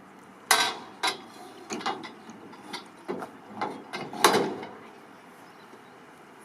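An aluminium rear rack on a ute slots into place, giving a series of sharp metallic clunks and sliding knocks at uneven intervals, close and fairly loud with no talking.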